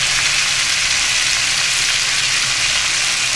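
Mixed vegetables fry in a hot pan with a steady, loud, even sizzle that hisses without a break, and no voices are heard.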